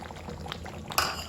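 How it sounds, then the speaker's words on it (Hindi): Crushed browned onions go into simmering korma gravy for UP-style kadhao gosht: a low steady bubbling, then one sudden splashy sizzle near the end as they land in the pot. "तो अब हम डाल देते हैं इसके अंदर ये प्याज जिसको हमने क्रश करके रखा है"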